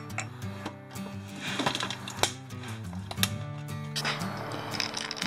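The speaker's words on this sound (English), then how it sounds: "So let's start taking all these screws and stuff out." Screws being backed out of the cover on a Honda EU2000i generator, giving small clicking, ratcheting metal ticks and rattles over a steady background hum, fairly close.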